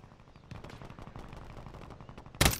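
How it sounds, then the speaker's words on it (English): Rapid video game gunfire in Call of Duty, a steady stream of muffled automatic shots rattling for over two seconds before a sudden loud close burst at the end. "Somebody shooting from on top right here, though."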